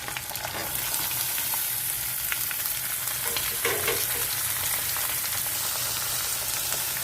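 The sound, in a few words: onion pieces frying in a pan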